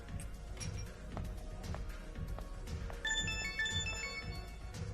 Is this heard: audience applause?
no